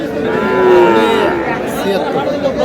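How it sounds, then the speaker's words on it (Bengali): A large Sahiwal bull at a cattle market gives a loud, drawn-out moo up close, with crowd chatter and voices murmuring around it. "বড় ধরনের সাইওয়ালের ষাঁড়।"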